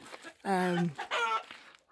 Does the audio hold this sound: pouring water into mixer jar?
no